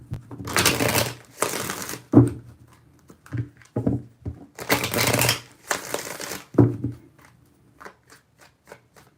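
Tarot cards being shuffled by hand, three bursts of riffling and fluttering each followed by a tap of the deck squaring, with quiet pauses between.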